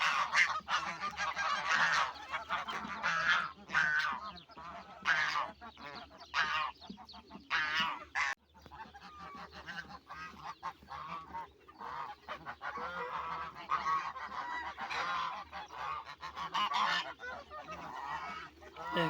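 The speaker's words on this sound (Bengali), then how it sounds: "দেখেন কত সুন্দর ডাকতেছে রাজহাঁসে" Domestic geese kept alongside ducks and chickens honk repeatedly and loudly close by, with overlapping calls coming in bursts throughout.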